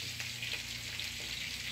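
Corned beef and egg frying in a pan for breakfast in a home kitchen in the Philippines, a close, steady crackling sizzle without talk.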